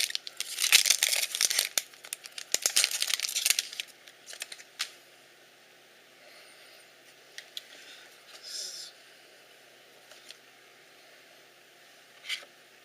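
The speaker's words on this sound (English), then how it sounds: "Each mini box has its own pack that's sealed in foil. So let's crack it open and see what we got." A foil-sealed trading card pack is torn open up close, giving several seconds of loud crinkling and ripping foil, then quieter scattered rustles and a few soft crackles.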